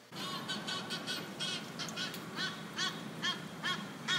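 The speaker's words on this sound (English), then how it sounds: "There's like a goose outside my window, like going mental." A goose honks repeatedly outside a window, a string of about a dozen sharp, nasal calls coming in irregular bursts, fairly faint and distant over a low background hum.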